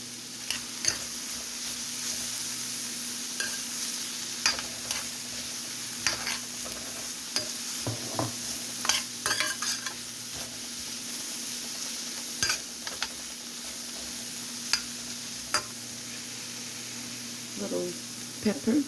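Pork chow mein stir-frying in a pan, a steady hiss of sizzling with intermittent clicks and scrapes of stirring throughout, fairly close and continuous.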